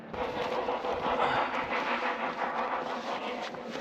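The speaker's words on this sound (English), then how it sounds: "You guys hear that noise? This is the steam train and not the diesel." A steam train rumbles past in Wales, its steady roar and chuffing filling the air with no one talking.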